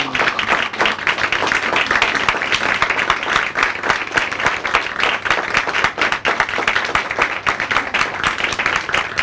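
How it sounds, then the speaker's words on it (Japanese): A crowd at an election rally kickoff in Tokyo's 12th district claps steadily to welcome an arriving candidate, a dense, loud and continuous burst of many hands with no voices over it. "拍手でお迎えください。"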